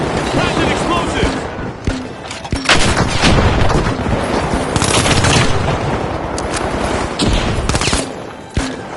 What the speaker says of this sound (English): Plastic explosive!